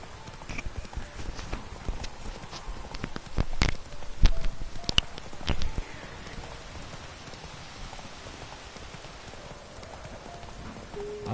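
Hooves of Geralt's horse Roach clip-clop in The Witcher 3, a steady patter of hoofbeats at moderate distance with a few louder thuds midway, over ambient game sound.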